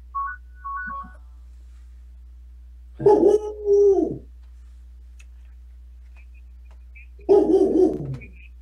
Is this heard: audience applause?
no